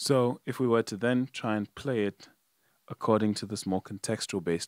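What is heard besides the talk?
No everyday noise stands out behind the speech.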